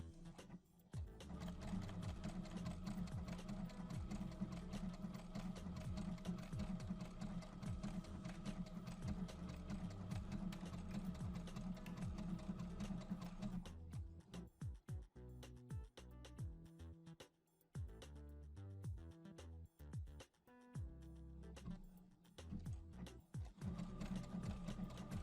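Sewing machine stitching a homemade fabric face mask, running in a steady continuous whir that stops briefly and then restarts, close and loud with no talking.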